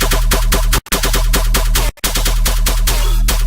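Serum 2 synth bass with its formants stripped away, leaving a buzzy, noisy tone that pulses in a steady repeating rhythm, loud and up close, with two brief dropouts.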